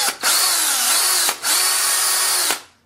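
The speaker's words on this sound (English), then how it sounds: "It's an 18-volt drill." An 18-volt cordless power drill whines loudly at full speed in three sustained runs, with brief pauses between them and no talking.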